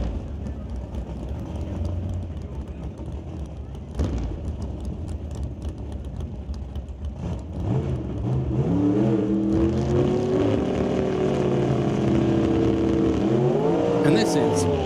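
Drag racing cars in an NHRA Super Shifter final build from a distant rumble to loud, rising engine revs with gear changes, while an announcer talks over the noise.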